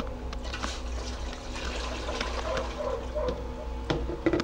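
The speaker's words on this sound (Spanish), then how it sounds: "En nuestra cacerola vamos a poner el agua." Water pours steadily into a cooking pot for sausage spaghetti, a continuous close splashing and filling rush with no talk over it.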